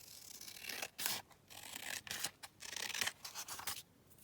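Scissors cut paper to make an envelope pocket, with quiet, close snips and rustling strokes coming in short irregular bursts.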